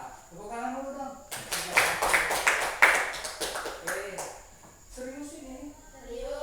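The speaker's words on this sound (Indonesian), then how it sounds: "Tepuk tangan dulu dong." A classroom group gives a short burst of applause, a few seconds of dense clapping following and followed by a teacher and students talking.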